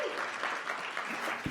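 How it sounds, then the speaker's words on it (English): Audience applause welcoming a speaker at a multi-stakeholder health consultation meeting, brief steady clapping from a crowd, fairly faint and distant. "Can we just try welcoming her with a strong clap?"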